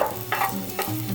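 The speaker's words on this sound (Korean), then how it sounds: "수삼, 대추를 넣고 살짝 볶아주세요." Fresh ginseng and jujubes stir-fried in oil in a pan over high heat, giving a steady close sizzle with two brief scraping stirs.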